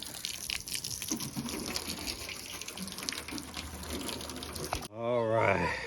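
Running water splashing steadily while a 2011 Infiniti G37 is washed during an auction-car cleanup, a continuous gushing hiss, then a short louder burst near the end.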